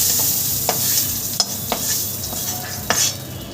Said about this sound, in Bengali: সমস্ত সবজি তোমরা সুন্দর করে ভেজে নেবে